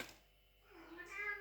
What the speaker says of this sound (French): Tais-toi le chat, tais-toi le chat.